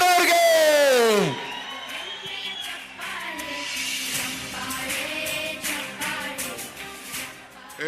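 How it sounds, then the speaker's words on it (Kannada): At a large outdoor political public meeting in Vijayanagara, a crowd cheers and whoops to welcome D.K. Shivakumar, a loud, sustained roar of many voices with scattered shouts following a brief amplified voice at the start. "ಜೋರಾದ ಚಪ್ಪಾಳೆಗಳ ಮುಖಾಂತರ ಬರಮಾಡ್ಕೊಳ್ಳೋಣ ಸನ್ಮಾನ್ಯ ಶ್ರೀ ಡಿ.ಕೆ."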